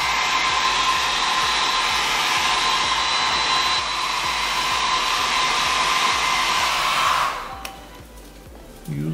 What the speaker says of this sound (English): Use a heat gun and it will lift up.